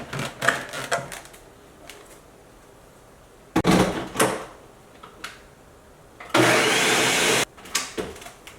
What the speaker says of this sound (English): And we're going to blend this together.